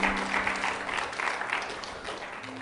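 Congregation applauding during a Spanish-language church sermon, a steady, dense wash of clapping that holds evenly across a short stretch, with faint low tones beneath.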